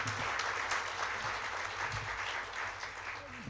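Audience applause at a live Thursday talk session, steady dense clapping from a crowd throughout, moderately loud and continuous without a break.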